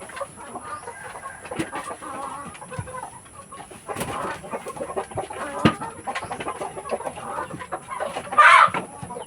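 Chickens cluck steadily up close while pecking, with a few louder squawks near the end and soft rustling between calls.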